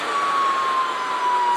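Energica Eva electric motorcycle motor letting out a steady, loud, high-pitched whine that glides slightly downward in pitch, heard alone without voices over a short stretch.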